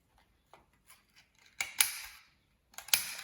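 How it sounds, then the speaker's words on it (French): Scissors cutting small stars out of pink paper: a few faint snips at first, then louder crisp closing cuts with rustling paper, close up and without talk. "je vais découper des petites étoiles dans ce papier rose"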